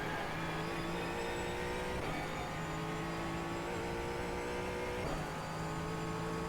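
A Ford Mustang race car at full power on the Summit Point circuit, its engine a loud, steady onboard drone with brief dips in pitch near the second and fifth seconds, as if from gear changes or lifting.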